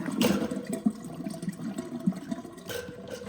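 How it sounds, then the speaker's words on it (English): Water poured and dumped out of a household water filter housing during a filter swap, a brief splashing gush with soft sloshing and dribbles, close and fairly quiet. "Dump all the water."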